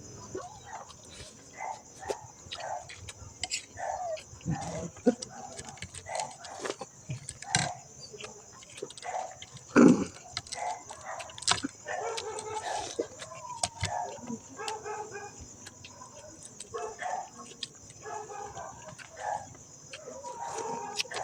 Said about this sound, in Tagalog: Yun, tumatahol.